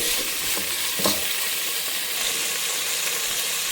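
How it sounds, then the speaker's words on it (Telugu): Onions and mint frying in a pan for bagara rice, giving a steady, loud, close sizzling hiss throughout with a few brief stirring scrapes early on. "ఉల్లిగడ్డ అట్లే కొంచెం పుదీనా కూడా వేసుకుందాం"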